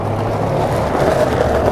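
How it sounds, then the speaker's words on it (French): A car passing by outdoors, a loud, steady broadband engine and tyre rumble that fills the short stretch without any voices. "Attendez, j'attends que la voiture elle passe."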